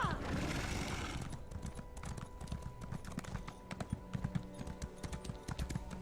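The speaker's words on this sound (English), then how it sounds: "Jeez, this horse is so slow." A horse's hooves clip-clop in a steady, even rhythm in The Elder Scrolls Online, the animated mount plodding along at a slow walk, fairly close and moderately loud over a soft game backdrop.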